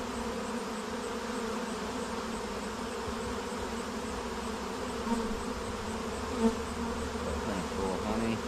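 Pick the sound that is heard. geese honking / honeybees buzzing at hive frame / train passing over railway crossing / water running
honeybees buzzing at hive frame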